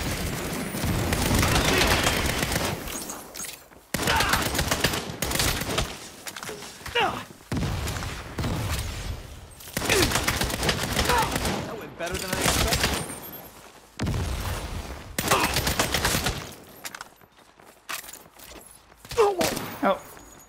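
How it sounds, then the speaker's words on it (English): Sustained gunfire in the Saints Row video game, a dense loud fusillade of repeated shots with short pauses between volleys, running under a voice talking. "I was gonna shoot him with the pistol, but I guess not"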